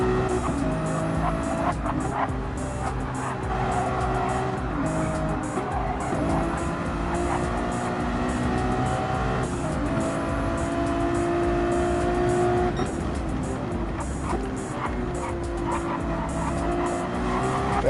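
Porsche race cars lap the Barcelona circuit with steady, loud engine roar, passing cars and tire squeal, continuous throughout with no talk.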